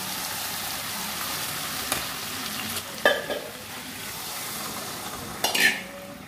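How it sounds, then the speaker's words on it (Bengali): Fried eggplant, river snails and potato tipped into a hot pan and stirred, a soft continuous sizzle broken by two sharp clattering scrapes of a spatula against the pan, close up. "ভেজে রেখেছিলাম বেগুন গুগলি আলু সব দিয়ে দিলাম"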